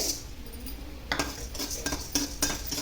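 Chana dal and coriander seeds roast in a little oil over a low flame while a spoon scrapes and taps against the pan in irregular strokes, with a faint, soft sizzle underneath.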